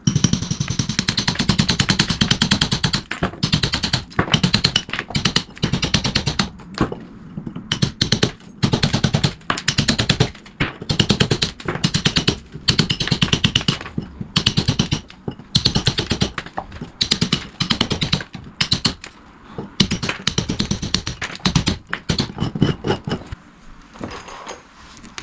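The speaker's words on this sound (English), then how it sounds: "So I've just chased it out with a hammer and chisel." Rapid bursts of sharp, rattling impacts with short pauses between them, loud and close, as a hammer and chisel chase masonry out of a bathroom wall for shower valves.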